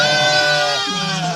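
Young animals bleat in a short, wavering high call, close and fairly loud, with a lower bleat joining near the end.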